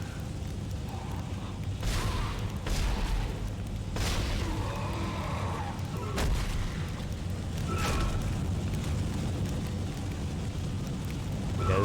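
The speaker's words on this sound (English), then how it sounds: "Just constant explosions and shit going on." Repeated booming explosions burst from the Dead Space video game, several heavy blasts with whooshing debris across a dense, loud action mix.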